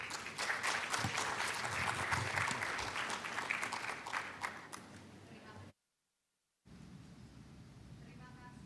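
Audience applause at a conference side event on sustainability, a dense steady clapping from a full room that breaks off abruptly for about a second of silence and then resumes.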